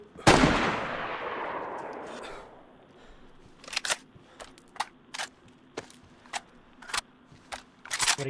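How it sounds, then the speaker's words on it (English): Gunfire in the video game DayZ, on the Chernarus map: one heavy, loud shot with a long rolling tail, then a string of sharp, irregular single cracks spaced a second or so apart. "What are you shooting at?"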